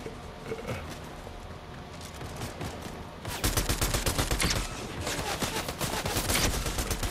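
Gunfire in a Fortnite match: rapid bursts of shots at mid distance, growing louder and denser partway through into sustained volleys.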